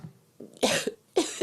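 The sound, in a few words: cough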